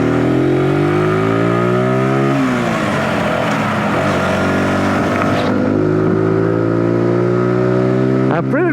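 A Zontes G125 125cc motorcycle accelerating after a shift into second gear, a loud close engine whose pitch climbs, drops at the gear change and climbs steadily again, with no talk.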